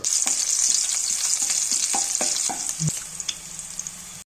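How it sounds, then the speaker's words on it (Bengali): Whole cinnamon, cardamom pods, cloves and chopped green chili fry in hot oil in a wok, giving a steady loud sizzle with light scraping stirs and a few soft clinks throughout. "তারপরে একই কড়াইয়ের মধ্যে দিয়ে দেব গোটা দারুচিনি, গোটা এলাচ আর দুটো লবঙ্গ, আর সাথে কুচনো কাঁচা লঙ্কা দিয়ে হালকা নেড়ে চেড়ে নেব"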